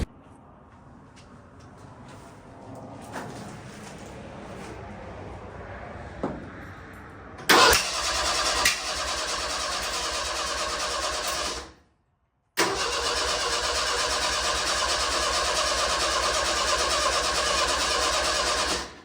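A car engine cranks during a jump-start attempt with help from a Lincoln: faint rattling at first, then a loud, steady grinding churn that runs for several seconds, cuts off briefly, and resumes just as strong.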